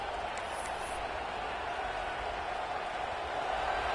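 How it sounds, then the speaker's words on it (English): A broad, steady roar of a large stadium crowd at an Oklahoma vs UTSA football game, constant and loud throughout with a slight swell near the end. "This crowd bringing the energy and noise early."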